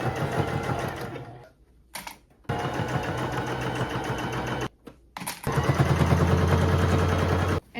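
A sewing machine stitches close to the edge of a garment being refashioned, running in loud steady bursts with two short pauses in between.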